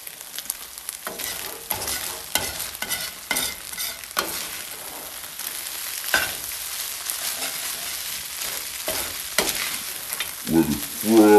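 Ramen noodles frying in hot oil, with a steady broadband sizzle and crackle broken by repeated stirring scrapes and spatters, growing louder and busier near the end.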